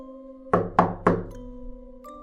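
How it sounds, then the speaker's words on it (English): Three sharp, evenly spaced knocks on a door ring out clearly over a soft sustained tone, an audiobook sound effect. "Suddenly, there is a knock at the door."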